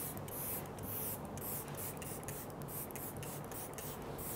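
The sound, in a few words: spraying makeup setting spray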